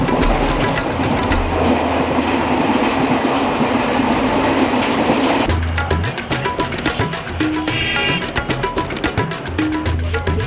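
A train chugging through Kerala: loud rolling rail noise with rhythmic clickety-clack of wheels over joints, shifting partway through to sharper rattles and faint wheel squeals, with no voices.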